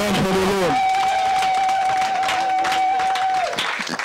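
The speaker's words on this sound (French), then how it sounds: "If you were blessed, I want you to clap your hand for the Lord" A church congregation clapping hands, a dense crowd of claps with some cheering and a sustained sung or shouted tone over it, loud and close throughout.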